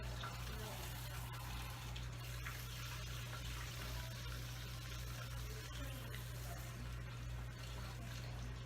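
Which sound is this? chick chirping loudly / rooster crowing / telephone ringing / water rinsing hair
water rinsing hair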